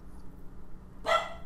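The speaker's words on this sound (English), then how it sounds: "so he barked" A dog gives one short, sharp bark near a football club, cutting through a low room hum.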